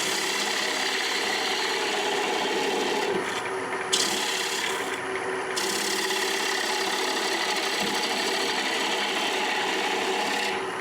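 Steady, loud rasping of a lathe tool cutting across the shoulder and tenon of a roughed-out wooden bowl, a continuous scraping drone under the whir of the turning lathe, briefly easing about a third of the way through.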